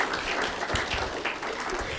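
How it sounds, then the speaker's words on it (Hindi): Applause for award winner Anuj at the Plan India Impact Awards ceremony, a short burst of dense crowd clapping lasting about two seconds. "जोरदार तालियां अनुज के लिए।"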